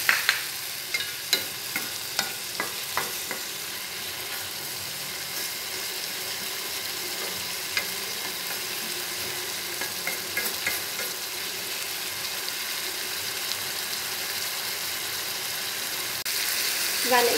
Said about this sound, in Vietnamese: Và nãy giờ thì cái chảo khổ qua của em nó cũng sắp chín rồi.